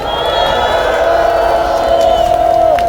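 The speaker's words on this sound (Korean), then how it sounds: "우리 j k 님께큰 박수 한 번 주세요" An outdoor crowd in the rain cheers and shouts for a singer after a street performance, loud massed voices with whoops, and a sustained tone runs through it.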